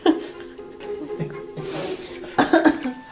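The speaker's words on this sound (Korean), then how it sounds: "아, 기침이다" Coughing from a woman after a first taste of pungent Korean fermented skate with makgeolli, a few close, sharp coughs, with throat noises and faint breathy sounds around them.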